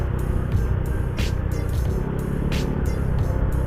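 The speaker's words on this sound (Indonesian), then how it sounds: "Nah kalau kayak gini tuh suaranya beda juga, merung itu pasti ini kepake engine brake-nya." An automatic scooter engine braking while descending a hill, a steady low engine drone mixed with loud wind buffeting, continuous and close with no talk.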